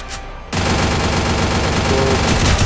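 Rapid automatic gunfire in a shooter video game bursts in after a brief quiet start and sustains a dense, loud, continuous volley of shots to the end.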